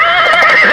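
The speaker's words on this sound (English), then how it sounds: "Horse," A horse neighs in a single loud, close, wavering whinny that fills the short moment on its own, with no talk over it.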